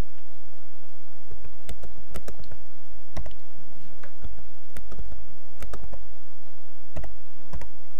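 Numbers are entered on a computer keyboard to build a matrix in Matlab, sharp clicking keystrokes tapped in an irregular rhythm, sometimes in quick pairs, sounding close and clear with no talking.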